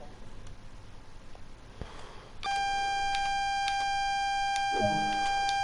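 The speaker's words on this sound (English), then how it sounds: "That alarm is the AWS self-test system." An AWS self-test alarm in the Train Sim World game sounds after a short stretch of low cab ambience, then holds as one loud, steady electronic tone that runs unbroken to the end.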